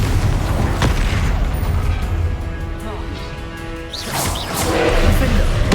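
Confringo fire spell blasts in the Hogwarts Legacy video game, loud booming crashes and whooshes layered with game sound effects and a voice speaking over the action.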